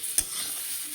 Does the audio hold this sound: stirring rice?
yes